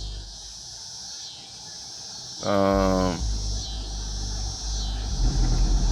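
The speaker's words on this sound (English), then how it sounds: "I had to let that damn truck go by with that goofy shit playing." A truck rolls past with a low rumbling swell that rises midway, joined by a brief burst of loud music as it goes by, amid steady background hum.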